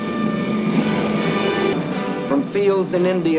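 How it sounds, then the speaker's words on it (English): A loud, sustained engine roar from an Air Transport Command cargo plane taking off from a field in India, droning steadily with someone narrating over it toward the end. "an Air Transport Command plane takes off every 6 minutes"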